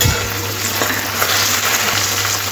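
Chopped onion fries lightly in a pan, giving a steady, close sizzle throughout with no voices over it.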